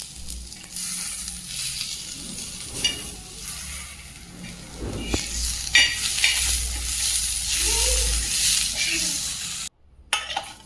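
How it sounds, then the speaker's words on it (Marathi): Coriander stems and masala fry in oil in a pan, a close steady sizzle with occasional spoon scrapes and clinks, a voice speaking faintly at times. "अजून तेल टाकून ते व्यवस्थित फ्राय करून घ्यायचं आहे"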